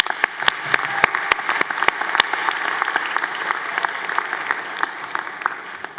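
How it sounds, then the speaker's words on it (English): Audience applause for families and friends at the Atlantis University 2022 commencement ceremony, a dense sustained crowd clapping with several sharp louder claps standing out near the start, then settling into an even roar. "let's give them a big round of applause"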